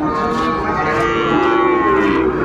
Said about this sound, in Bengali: শাহিওয়ালের ষাঁড় বাচ্চা।